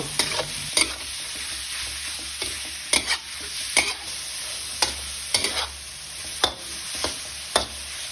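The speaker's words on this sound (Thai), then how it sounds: "ใส่กระดูกหมูอ่อนที่เราหั่นไว้ลงไปครับ แล้วก็ผัดคลุกเขาให้เข้ากันให้หมูสุกขาว" Pork cartilage pieces stir-fried in a hot pan, steady sizzling broken by repeated sharp scraping strokes of a spatula, close and fairly loud, no talking.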